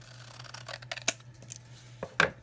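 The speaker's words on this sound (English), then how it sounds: "we're just going to get out a pair of long scissors, and about 1/4 of an inch we're going to cut all the way around" Long scissors cut around the edge of paper cardstock, giving a few short, crisp snips spaced unevenly over a low steady hum, with no talk.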